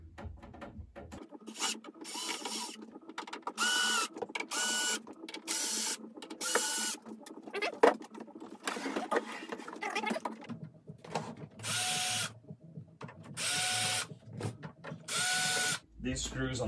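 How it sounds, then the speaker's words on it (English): Screws are backed out of the side panels of a Behringer X32 digital mixing console, most likely with an electric driver, giving repeated loud whirring bursts with rattles and scrapes in between and brief talk. "And get these side screws off."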